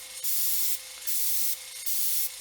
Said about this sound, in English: I'm gonna spray it like an angle like that, and I'm spraying really thin